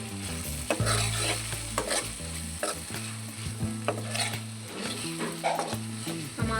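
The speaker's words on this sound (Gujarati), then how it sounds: "બાકીનો માંડવીનો ભૂકો આપણે પાછો એડ કરી દઈશું અને મિક્સ સારી રીતે કરી લઈશું" Crushed peanut mixture being stirred into a pan of drumstick curry, the spoon scraping and clacking steadily against the pot while the mixture sizzles and fries underneath.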